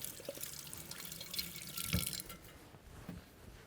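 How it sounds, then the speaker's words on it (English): Kitchen tap water running into a sink during handwashing, a continuous close splashing stream with small shifts in the flow. "wash my hands real quick"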